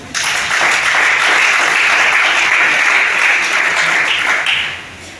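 Loud, sustained audience applause from a congregation, a dense wash of clapping that rises quickly, holds steady for several seconds, then tapers off.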